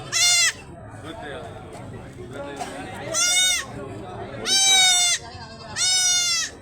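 Young goat kids bleat loudly four times in bursts over roughly seven seconds, with quieter talk and farmyard noise filling the gaps between calls.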